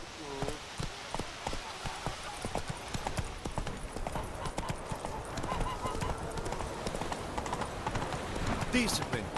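Roach, the horse in The Witcher 3, gallops in a steady rapid clip-clop of hooves close up, with a brief whinny near the end.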